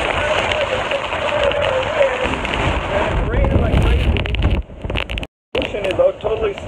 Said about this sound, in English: winds are blowing like crazy